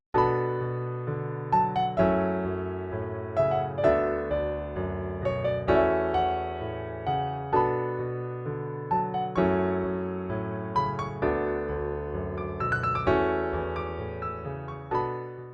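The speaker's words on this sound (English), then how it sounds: "it's a pretty fleshed out piano loop" A layered piano loop with several interweaving melodies over a low bass line, repeating steadily with no voices.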